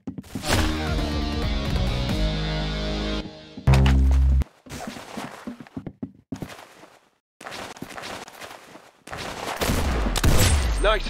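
Gunfire in the tactical shooter Valorant, with bursts and single shots broken by short silences, plus footstep-like thuds, all loud and close, with no talk.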